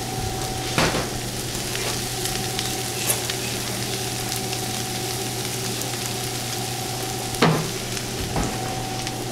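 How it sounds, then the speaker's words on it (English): Spinach being stirred into a frying pan for a vegan burrito with Beyond meat, giving a steady sizzle with a few sharp scrape-like clicks from stirring, fairly close under a constant kitchen hum. "now I'm gonna throw in the spinach"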